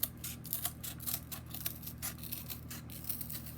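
Scissors snipping through cardboard to cut out a side-profile shape for a self-portrait, a quiet, steady run of soft crunching cuts close by with no talk.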